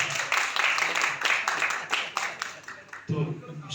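An audience at a private schools association gathering for teachers claps in scattered, uneven bursts that fade near the end, as a voice comes in over the last second.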